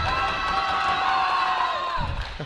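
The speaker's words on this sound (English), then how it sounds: "The Tufts crowd really enjoying the mistake" A Tufts crowd at a college tennis match cheers and whoops in a sustained, fairly close roar that fades slightly near the end.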